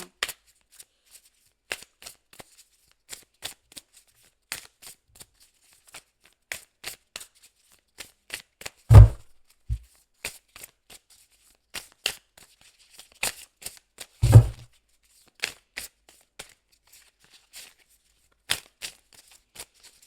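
Oracle cards of light being shuffled by hand, heard as a run of crisp, close riffling bursts at an uneven pace with brief pauses between, plus two heavier thumps partway through, and no voices.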